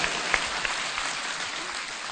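An audience claps steadily at a public gathering, a dense, even patter of applause with no voices over it.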